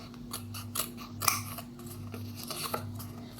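Scissors snip and trim the edges of paper sheets while making a mini paper cup, giving a few soft, close cuts with faint rustling over a low steady hum.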